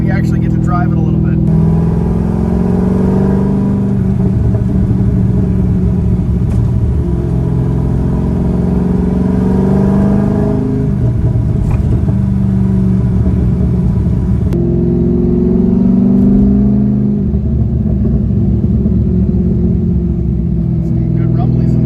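Loud cammed C5 Corvette engine revving near the microphone, a steady lopey rumble that rises and falls across the stretch while someone talks over it.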